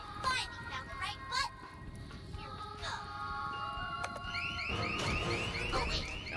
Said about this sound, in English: Oh wait, that's a car alarm.